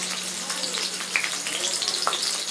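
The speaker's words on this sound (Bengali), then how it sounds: "তো আমি পেঁয়াজগুলো দিয়ে দিচ্ছি" Onions sizzle and crackle in a small amount of hot oil in a wok, a steady close frying hiss with scattered pops and a few sharp stirring clinks.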